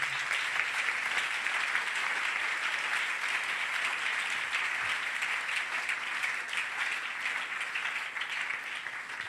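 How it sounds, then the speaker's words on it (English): A congregation at a church service claps steadily; the dense, continuous applause holds at an even level throughout and eases slightly near the end. "you can clap"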